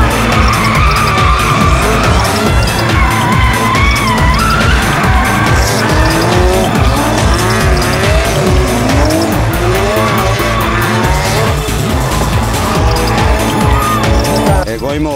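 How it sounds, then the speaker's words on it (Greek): Cars drift at a drift show in Thessaloniki, loud overlapping tire squeals sweeping up and down over revving engines, continuous and close, with crowd noise mixed in. "κάνω ένα drift show με τα αυτοκίνητα των πελατών"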